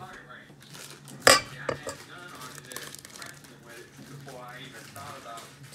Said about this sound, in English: We'll use the silicone. I'm gonna scratch the bowl.